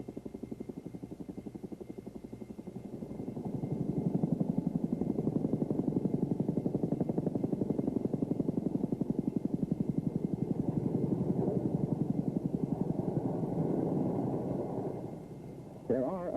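A helicopter spools up for takeoff, its rotor chop building from a moderate thrum into a loud, steady pulsing roar that holds for several seconds before easing off.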